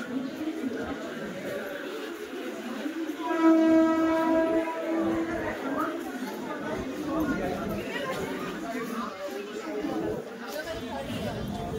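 A suburban train pulls into a crowded Mumbai station with a first-class coach, a low rumbling roll beneath a steady horn blast near the start, while a busy crowd chatters loudly throughout.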